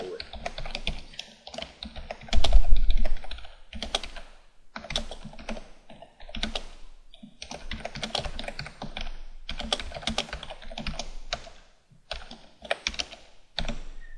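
Fast clicky typing on a computer keyboard while coding, bursts of rapid keystrokes separated by short pauses, close and clear, with one brief low thump near the start.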